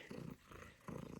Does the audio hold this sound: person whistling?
no